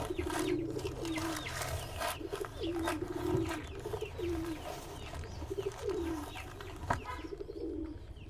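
Pigeons cooing in a backyard, a steady series of soft, low, rolling coos repeating every second or so over a busy outdoor background with occasional knocks and rustles.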